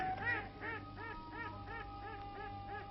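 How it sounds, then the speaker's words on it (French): Mallard ducks in the Albufera wetland in Spain, with repeated rhythmic nasal quacks and honking calls in steady series, moderately near over a low background rumble, no talk. "Le colverde ou canard azulon est l'espèce la plus abondante dans ces lieux."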